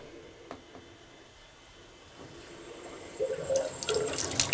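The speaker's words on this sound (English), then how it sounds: "I'm going to turn on the cold water tap." Cold water from a bathtub tap runs in a rising flow, quiet at first, then a louder splashing gush near the end.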